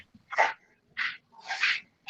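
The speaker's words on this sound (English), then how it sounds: "What is my dog doing? Dog is really, really working my nerves here." A dog makes three short bursts of breathy vocal noise, whimpers or snorting sneezes rather than clear barks, close and fairly loud, alone with no talk.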